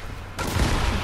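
Burst of rapid gunfire from a multiplayer shooter video game begins abruptly partway through, loud and dense with no voices.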